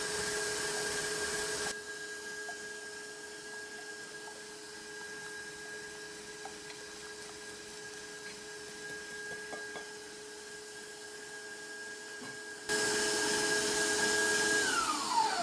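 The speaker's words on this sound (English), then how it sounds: "I'm gonna put my mixer on low and I'm gonna gradually add the egg." An electric mixer whirs steadily as it beats sponge cake batter, a continuous mid-pitched motor drone with a faint tonal whine, louder at the start and end and slightly softer through the middle, no voices.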